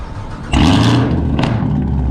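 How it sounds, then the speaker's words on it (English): A Chevrolet Camaro ZL1 engine cranks and fires with a sudden loud burst, then settles into a deep, steady idle rumble with a brief second surge near the end, heard close and alone. "Finna go ahead and start her up."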